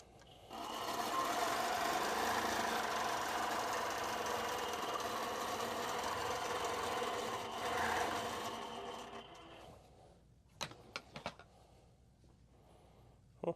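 A longarm quilting machine stitching a Baptist fan pattern runs as a steady, loud mechanical whir for about nine seconds, then winds down and stops, followed by a few sharp clicks and taps.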